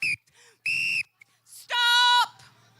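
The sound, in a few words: whistle blown to start a challenge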